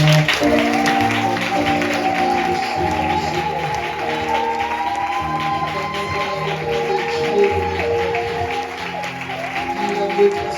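A church congregation claps loudly and steadily in praise at a fasting and prayer service closing, the dense applause running the whole time over sustained music.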